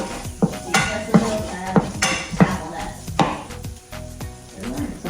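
Steak and potatoes sauteing in a pan for bistec ranchero, with repeated sharp clanks of a utensil against the pan and a soft sizzle underneath, close and busy.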